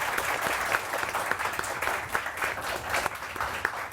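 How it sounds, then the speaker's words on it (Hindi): Dense, steady applause from the studio audience of a Pakistani morning TV show, Subah Saverey Samaa Kay Saath, in a continuous wash of many hands clapping together at full volume with no voices over it. "वारिस के लिए बहुत सारी तालियां।"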